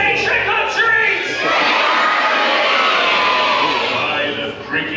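A Halloween show audience aboard a cruise ship screams together in a loud, sustained crowd roar with children's shouts and cheering, filling the whole clip after a few brief calls at the start.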